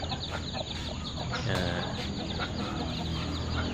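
Several chickens cluck and chatter nearby in a backyard coop in a busy, continuous jumble, with a sharper squawk rising briefly in the middle.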